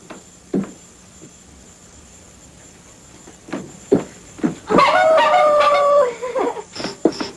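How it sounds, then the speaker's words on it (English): One-man band playing off in the distance: scattered thumps and clatters give way to a wailing, squeaky horn-like melody with drum hits, loud and busy for a couple of seconds before breaking into short bursts. "That was the sound of a one-man band."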